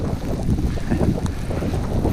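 Strong gusts of around 40 miles an hour during a snow storm on a road in South Glastonbury, Connecticut, blast across the microphone as a loud, continuous buffeting roar, with no talking.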